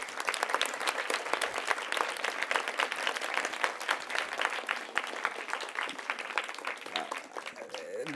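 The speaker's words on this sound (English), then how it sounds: "Please, a big round of applause for the audience." Sustained audience applause at a school annual day event, dense and steady clapping from a large crowd that holds strong for most of the stretch before easing slightly near the end.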